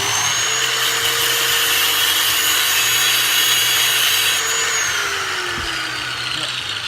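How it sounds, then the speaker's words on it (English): Steady grinding, buzzing tool noise as the end of a Jeep cable is cut off in a garage, loud and continuous for several seconds with a brief sharper scrape near the end. "So now I'm just gonna chop this off of here."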